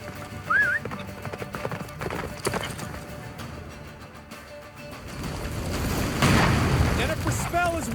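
Roach, Geralt's horse in The Witcher III: Wild Hunt, gallops hard through a snowstorm. Steady rhythmic hoofbeats run throughout with a brief whinny near the start, under a deep rumbling storm and voices talking.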